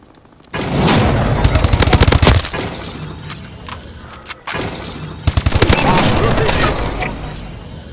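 Automatic weapons fire in Call of Duty: Advanced Warfare during a Domination match: loud, rapid bursts of machine-gun fire in two long volleys with sharp cracks and booms, a brief lull between them.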